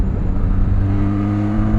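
Benelli TRK 502 X motorcycle engine revving hard, a steady loud mechanical drone with strong low harmonics sustained through a short burst, no voices.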